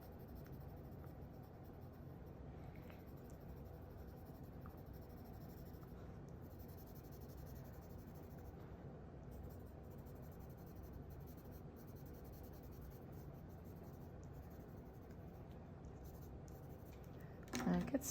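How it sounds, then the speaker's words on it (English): Graphite pencil shading on paper for a small still-life drawing of a bottle, with heavier pressure building dark values: a steady, continuous soft scratching and rubbing that runs throughout at close range, ending with a brief louder scrape. "so a bit heavier on the pencil pressure here and here."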